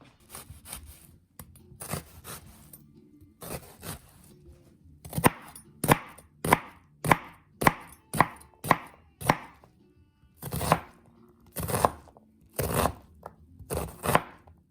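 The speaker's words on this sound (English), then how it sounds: "I've got lots of room here to keep on chopping" A knife chops vegetables on a cutting board: scattered knocks, then a quick, even run of sharp thuds, then more spaced-out cuts.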